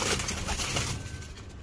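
A pigeon coos softly up close, its low murmuring calls running steadily through the whole short stretch with no talk over it.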